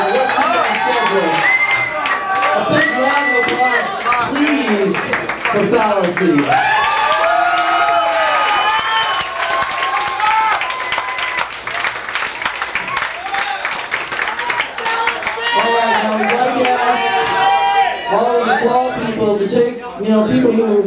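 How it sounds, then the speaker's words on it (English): A concert crowd at the Cattle Club in 1989 cheers and applauds loudly and continuously, with shouts and whoops rising above the clapping, while an announcer's amplified voice speaks over the noise. "A big round of applause, please, for"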